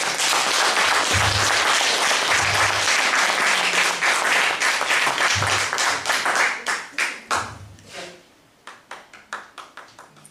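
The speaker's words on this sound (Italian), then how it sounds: "facciamo un applauso a Gesù" Italian church audience applauding after a sermon, a dense loud wash of clapping that thins out toward the end into a few scattered, separate claps.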